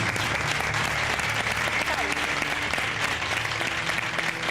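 Steady, dense applause from a crowd fills the whole stretch at an even level without a break.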